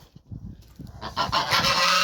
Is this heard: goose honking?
yes